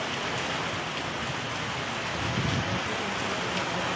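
Heavy rain falls in Sylhet during a sudden storm, a thick, steady roar of downpour with a brief low rumble near the middle.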